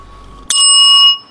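A single bright bell strike, loud and close, ringing with a sustained metallic tone that fades after about half a second.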